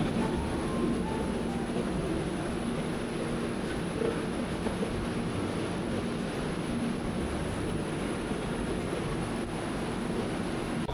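A steady rumbling hum of a small train, smaller than the LRT, in motion, constant and fairly quiet, with no talking.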